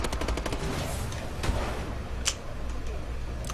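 Rapid bursts of gunfire from a team flag-capture shooter video game, with several quick cracks early and sharper isolated shots later over a steady background of game noise.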